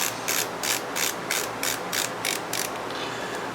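Small screws are snugged on a G-Made Sawback RC crawler build, giving a fast, even ratcheting click of a driver repeated in bursts, close and clear with no talk.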